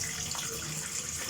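Tap water runs steadily into a kitchen sink as something is rinsed, a continuous close splashing hiss with no talking, heard while preparing a home-cooked egg and onion dish.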